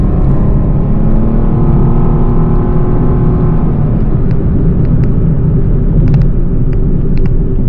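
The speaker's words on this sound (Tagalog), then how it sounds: "Accelerate natin, tapak sa gas." A Suzuki Dzire Hybrid accelerating on the road, a loud continuous engine drone and rumble heard from inside the cabin, rising steadily with no talk over it.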